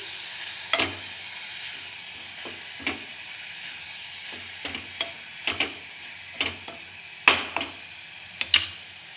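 Peanut powder paste being stirred in a pan, a spoon scraping in scattered strokes with sharp clacks against the metal over a faint sizzling background.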